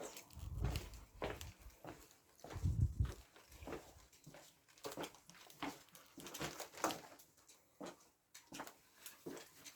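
A dog whimpers indoors in the early morning, with soft whines mixed with shuffling steps and light movement noises, fairly close and quiet. No talk.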